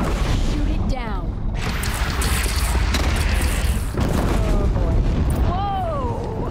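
Bridge explosion in Horizon Zero Dawn: a loud, sustained booming roar with crackling debris and high whistling tones running throughout, dense and close from start to finish.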